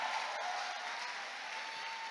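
An audience at a church worship night claps loudly, a dense steady patter of applause lasting a couple of seconds without speech.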